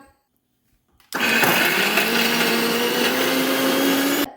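After a second of near silence, a mixer grinder grinding chilli powder and salt into chutney starts abruptly and runs as a loud, steady motor whine with a slowly rising pitch for about three seconds, then cuts off.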